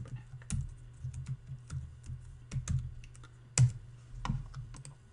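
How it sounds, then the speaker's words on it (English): A computer keyboard is typed on in quick, uneven bursts of clicky keystrokes, close and fairly quiet, with no talking. "So to edit that, I would just type in Zamberneck."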